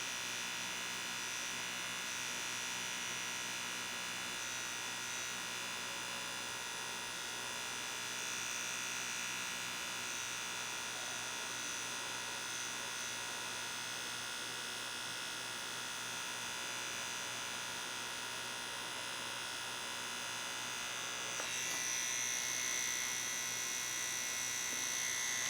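A tattoo machine buzzes steadily while a fingerprint design is tattooed, a continuous close electric whine with a dense high hum that holds unchanged for the whole stretch, shifting slightly in tone near the end, with no talking.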